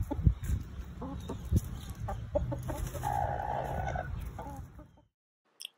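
An escaped chicken clucks in short close bursts on a porch, with a longer drawn-out call midway before the sound cuts off.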